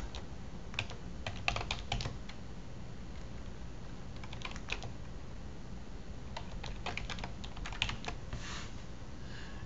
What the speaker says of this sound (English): all you do here is type in your name, your email address